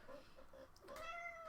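An old, demanding house cat meows at close range, a short rising call after some faint rustling, quiet and alone.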